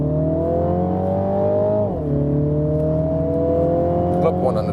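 A Mini Countryman John Cooper Works with 231 hp, in sport mode, pulls away hard from a standstill. The engine note climbs loudly and steadily, drops briefly at a gear change, then rises again, close and continuous.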